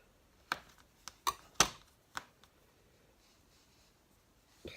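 A knife cuts through fondant for a baby elephant cake topper, making a handful of crisp, close taps and clicks against the surface at an uneven pace, with quiet gaps between them.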